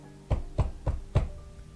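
Four heavy, evenly spaced thuds of a fist pounding on a door, close and loud, with no other sounds around them.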